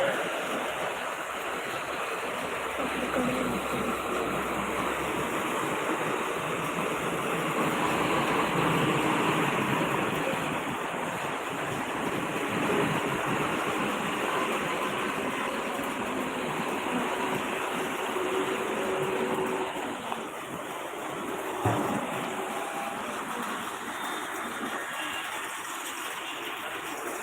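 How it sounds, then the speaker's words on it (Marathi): Water falls from a bridge in a continuous rushing splash as vehicles pass overhead, with a wind-like roar that swells and eases slightly, steady throughout, no talking. "वरच्या ब्रिजवरनं गाड्या गेल्या ना की पाणी पूर्ण खाली पडतं"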